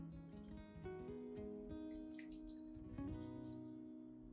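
Water is poured into a cup set in the center of a plant pot filled with banana peels and growing medium, a soft, steady trickling and splashing heard close up and quietly, with no talking.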